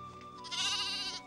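A goat gives a single wavering bleat, close and clear, rising in strength midway and trailing off after about a second.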